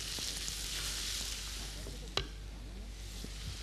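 Chopped radish cooking in a pan, a soft, fairly faint steady sizzle with a single sharp clink of a utensil partway through and light stirring scrapes.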